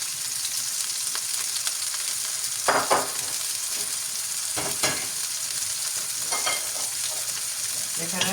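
Turmeric-and-salt marinated fish fries on a hot pan with a constant bright sizzle, punctuated by a few louder crackles and spits, close and steady with no talk.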